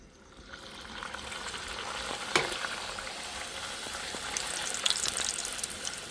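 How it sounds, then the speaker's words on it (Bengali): Luchi fry one by one in hot oil, a steady rising sizzle and crackle with a few sharper spits and splashes, close and fairly loud, with no talking. "এবার আমি লুচিগুলো ভেজে নিই একে একে।"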